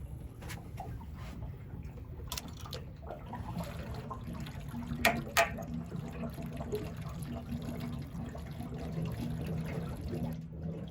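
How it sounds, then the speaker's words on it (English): Water draining from a residential water heater tank, opened through the temperature pressure relief valve to let air in, gives a steady low gurgling trickle with a few brief clinks, continuous and fairly quiet throughout. "now I'm going to use the temperature pressure relief valve to let some air in and get things draining a little faster"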